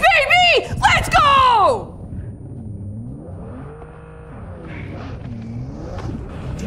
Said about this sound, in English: Sounds like he's doing donuts out there.